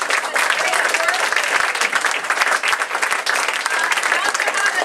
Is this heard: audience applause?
yes